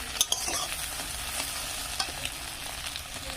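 Beans and egg fry in a pan while a spatula stirs them, giving a steady sizzle with a few sharp scraping clicks, close and continuous with no talking.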